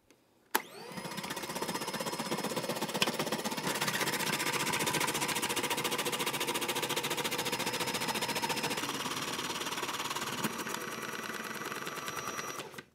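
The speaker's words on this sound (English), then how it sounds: "This is probably the best food processor I have ever owned." An old Braun food processor from a mother's kitchen grating a pound of raw carrot, a loud, steady motor whir with dense buzzing rattle that starts abruptly, runs continuously for about ten seconds, then cuts off.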